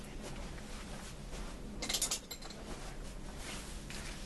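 A metal socket for a tie rod repair clinks briefly against other metal, a quick bright rattle in the middle of a quiet workshop background.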